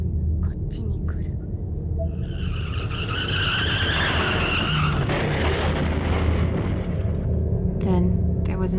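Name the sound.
car accident with skidding, from video game Corpse Party: Blood Drive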